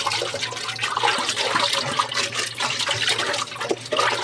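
Rice being rinsed under a running tap, a continuous close rush of flowing water with splashing and sloshing throughout, fairly loud and with no voices.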